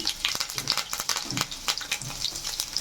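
Cumin, curry leaves and garlic sizzle in hot oil in a home kitchen, a close, crackling spatter with irregular pops and bursts, heard on its own without talk.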